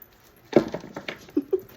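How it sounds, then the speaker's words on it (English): A dog makes an odd, short whimpering noise in the background of a quiet indoor room, with a few brief yelps and squeaks spread over a couple of seconds. "My dog made a weird noise in the background."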